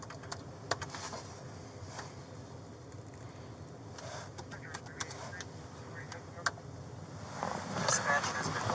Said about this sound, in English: give me 2 seconds to type this in